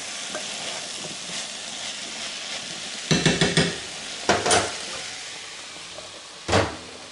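A spoon stirs zucchini soup in a pot, giving a few clustered scraping, clinking strokes over a steady low simmering hiss, with a single short stir near the end.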